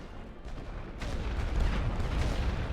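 An artillery barrage in the World War I video game The Great War: Western Front, a rumbling roll of distant booms building into a heavy, continuous low thunder.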